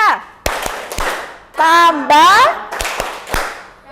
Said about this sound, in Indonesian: kita tepuk matematika ya